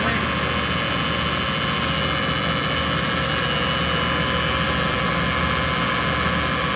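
A vintage Sun distributor tester spins a distributor at 1,000 RPM with a loud, steady mechanical drone and hum, constant and unbroken throughout, heard close up with no talk.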